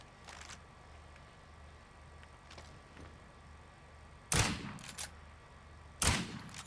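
Suppressed rifle shots in the State of Decay 2 video game: faint muffled pops early on, then two sharp, louder shots a couple of seconds apart near the end.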